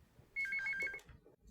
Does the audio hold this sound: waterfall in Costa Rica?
no